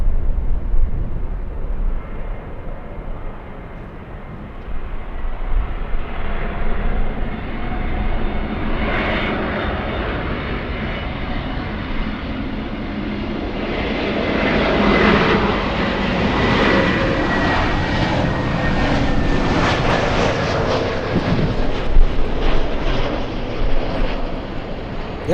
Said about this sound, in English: Lufty Queen. This is the 747 flying to Frankfurt.